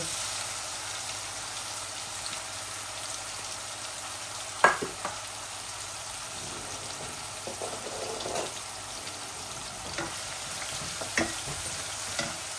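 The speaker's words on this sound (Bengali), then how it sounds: "অল্প একটু মাছ ভুনা ভুনা করব। এই আমি পেঁয়াজও দিয়ে দিচ্ছি সাথে।" Pabda fish frying with garlic and onion in a pan, a steady soft sizzle with a few sharp clinks and scrapes of stirring, no voices.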